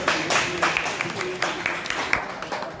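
Asante Kotoko football players clap together in a short burst of rhythmic group clapping at a celebratory meal, with voices talking over the claps.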